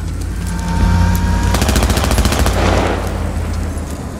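Gunfire in the military shooter Squad, a dense burst of rapid automatic shots after a low rumble, with a thud like a grenade blast beneath, loud and close, no voices.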